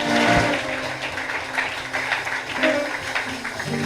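A church congregation applauds during a worship service, a dense wash of clapping that fills the space steadily throughout, with musical tones and a few voices blending underneath.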